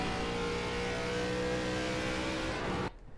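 An ARCA race car engine at Bristol holds a steady, loud, high-pitched roar at full throttle for nearly three seconds, then cuts off abruptly into near silence.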